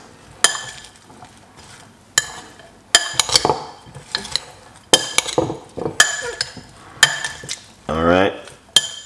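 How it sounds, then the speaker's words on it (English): Spoons and utensils clatter and scrape against a bowl while beetroot, ginger and lemon juice ingredients are stirred together, in several bursts of clinking and stirring at close range with brief pauses between. "Mix everything together"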